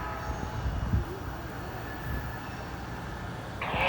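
A train rumbles along a railroad track on a hill near an old Norfolk and Western position light signal, a steady low roar that is moderately loud with a brighter burst of noise near the end.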